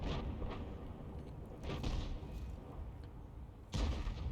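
In a tank combat video game, main guns fire in three heavy, muffled booms spaced a couple of seconds apart, each with a short rumbling tail over a low battlefield drone.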